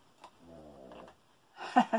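A single low, raspy snore from a nearby animal, followed by a brief louder rustle.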